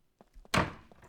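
A door swings open in the survival game SCUM: a few soft clicks of the handle, then a heavy wooden thunk with a short, fading rattle, fairly quiet and alone.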